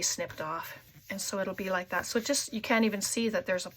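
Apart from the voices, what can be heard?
No everyday noise stands out behind the speech.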